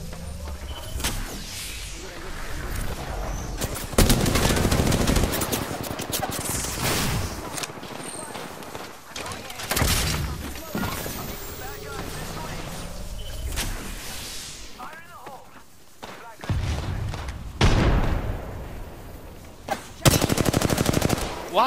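Video-game gunfire in bursts of rapid shots and heavier volleys, loud and close, separated by short lulls, with players talking over the shooting.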